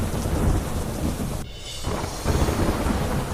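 Heavy rain pours steadily with thunder rumbling through it, a loud continuous downpour that briefly thins mid-way before swelling again, no voices.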